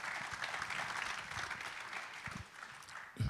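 An audience at a political summit claps steadily in a sustained, moderately distant round of applause that fades slightly toward the end.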